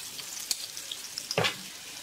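Pumpkin pieces stir-fry in a wok with a quiet, steady sizzle, broken by two brief scraping strokes of the spatula, the second one louder.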